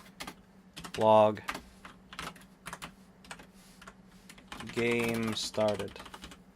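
Code is typed on a computer keyboard in MonoDevelop as a quick, close patter of key clicks in uneven bursts, broken by short spoken phrases from a man.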